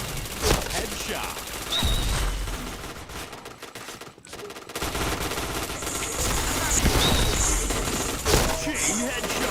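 Rapid automatic gunfire in a shooter video game, dense bursts of shots in quick succession with a short pause midway, loud and close, while a player talks over it.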